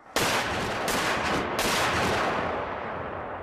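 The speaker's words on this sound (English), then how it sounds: "The men at the rear of the gun prime the piece and fire the piece." A Civil War cannon fires with a sharp, loud blast that rolls into a long, sustained roar and rumble, with a couple of further surges before it slowly fades. No voices are heard.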